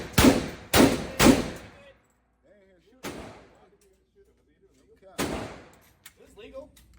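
Gunshots at an outdoor shooting range: three sharp, loud cracks in quick succession, then a softer thump and a single further shot after a pause, with quiet murmuring between.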